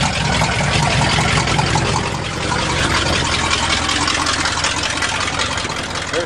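A 1977 GMC truck with a 400 engine runs steadily at a rough, loud idle close by, a continuous low rumble that holds without pause throughout, with someone talking briefly over it.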